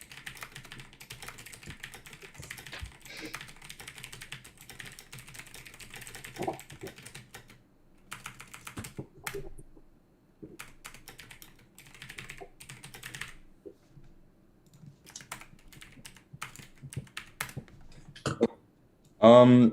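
Typing on a computer keyboard during a coding interview coaching session: bursts of quick, close key clicks come and go across the stretch, with pauses, a cough or throat clearing, and a louder clatter at the end.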